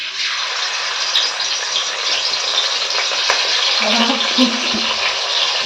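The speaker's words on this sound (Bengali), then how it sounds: "কড়াইতে তেল গরম হয়ে গেছে, এখন প্রথমে বাটা মাছটা ভেজে নেওয়া হবে" Bata fish fries in hot oil in a wok outdoors on a windy day, making a steady broadband sizzle with occasional rattles. A brief voice rises over it partway through.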